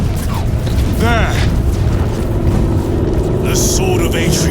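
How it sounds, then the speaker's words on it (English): Heavy engine roar from the game Warhammer 40000 Space Marine 2, a loud, dense rumble running steadily through the whole moment, with a sweeping whine and bursts of battle noise layered on top. "I hear engines"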